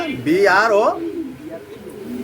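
A pigeon offered for sale coos in a short warbling burst near the start, then a low murmur continues under background noise.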